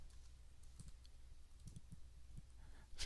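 Someone types on a computer keyboard nearby, producing soft, irregular clicks in small bursts over a low background hum, with no speech.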